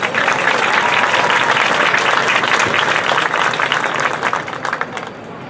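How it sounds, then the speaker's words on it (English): Crowd in the stands at a high school homecoming football game applauding the homecoming court, a loud, broad sweep of clapping and cheering that holds strong before thinning out toward the end. "Let's give them a round of applause."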